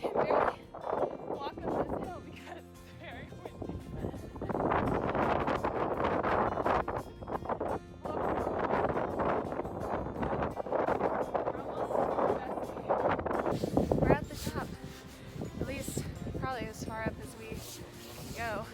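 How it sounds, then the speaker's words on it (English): Strong, gusty wind roars against the microphone on the Cliffs of Moher in Ireland, a steady buffeting rush with bursts that rise and fall, while people talk and laugh nearby under the noise. "We can barely walk up this hill because it's very windy."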